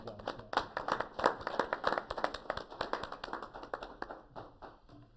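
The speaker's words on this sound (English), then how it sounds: "I think it's worth an applause." Hands clap in applause at a city council meeting after a unanimous vote, a short burst of fairly faint, scattered clapping that thins out toward the end.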